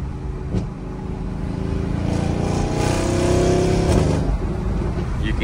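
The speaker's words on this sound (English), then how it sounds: "It's in Sport Plus mode right now." Engine of a 2020 Mercedes-Benz GLC63S AMG Coupe pulling hard in Sport Plus mode: a deep, rising roar heard from inside the cabin, swelling steadily and then easing off, loud and continuous with no talking.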